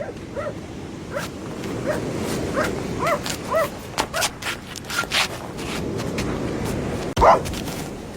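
A dog barks and yips in a radio drama production, a string of short, sharp calls spaced over several seconds against a steady, hissy outdoor-style ambience, with one louder bark near the end.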